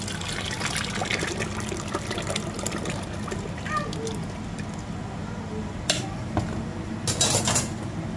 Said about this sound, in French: je remets donc la sauce, le jus